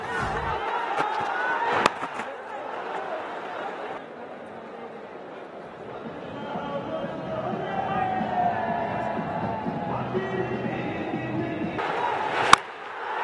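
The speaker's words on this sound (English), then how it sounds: "Well, it has certainly got the crowd going." Spectators at a Bangladesh versus West Indies one-day international cricket match cheer and roar for a six, with a broad continuous crowd swell under a commentator's voice and a couple of sharp knocks.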